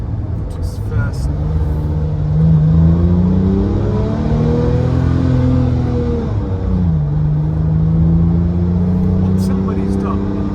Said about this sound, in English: you can hear that beautiful growl from the Mezger engine